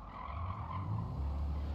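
In the Gran Turismo 7 racing game, a car brakes hard into the final right-hand corner with a sustained tire squeal over a low, steady engine drone, fairly quiet throughout.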